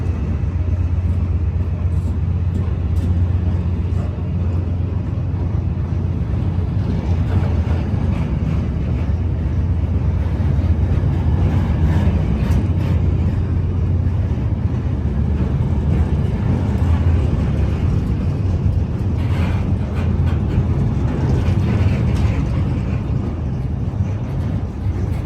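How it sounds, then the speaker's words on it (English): A freight train passes on the Aberdeen to Dumfries line, heard from inside a passenger train as a continuous deep rumble and roar that holds steady for over twenty seconds. "That will probably be a freight train coming through by the sounds of it."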